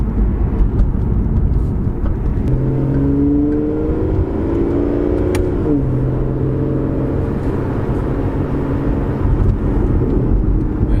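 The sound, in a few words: Aston Martin Vanquish driving, cruising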